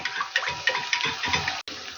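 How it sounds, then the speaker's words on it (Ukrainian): Water is poured into a pot of stewed fish in tomato sauce, a bright, splashy, continuous gush with small bursts that stops abruptly near the end. "Додам ще трошки води."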